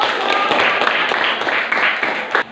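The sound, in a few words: classroom applause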